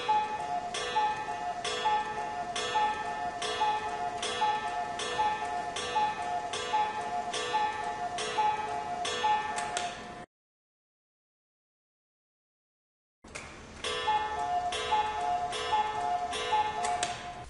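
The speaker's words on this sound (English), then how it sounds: "This is a one-day cuckoo clock with hand-carved maple leaves and moving birds." A white German one-day cuckoo clock, 13 inches tall with carved maple leaves, ticks in a steady, evenly spaced beat over a faint tonal hum, broken by a few seconds of silence before the ticking resumes.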